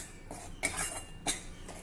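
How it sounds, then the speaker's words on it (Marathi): A spoon scrapes and taps against a pan while dry-roasting bajra (pearl millet) flour over low heat, with a few sharp metallic scrapes among quieter stirring and no talking. "मी अगदी न थांबता हे पीठ भाजलं आहे, सतत परतलं आहे"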